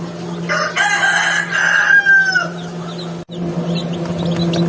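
Newly hatched chicks in a brooder after hatching in a DIY incubator, overheated and panting, chirp and peep in a busy cluster over a steady low hum, with sharper high peeps scattered near the end.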